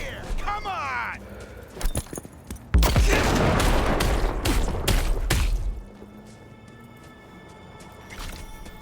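Gunfire in Cyberpunk 2077 bursts out in a dense, loud fusillade of sharp shots, followed by scattered single cracks and mechanical clanks as it trails off, with voices speaking around the shooting.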